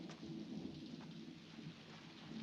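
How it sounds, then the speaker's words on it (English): Film-scene sound effects for a rainstorm with thunder, a faint, steady rain hiss with a low rumble underneath, with no voices. "thunder comes in post"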